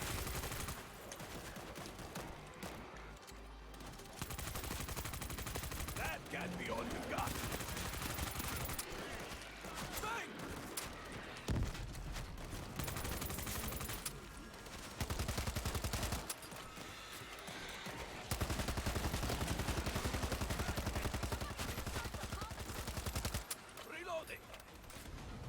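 Rapid automatic gunfire from World War Z Aftermath, dense bursts of shots that stop and start across the stretch, loud and near, with a player's voice talking in French between and over the firing.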